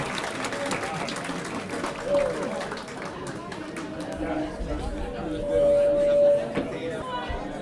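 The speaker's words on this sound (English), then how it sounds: "one more round of applause" Scattered applause from a crowd gathered at a ribbon-cutting ceremony mixes with chatter and background noise, the clapping fairly soft and uneven throughout.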